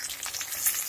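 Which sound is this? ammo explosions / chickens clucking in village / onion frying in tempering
onion frying in tempering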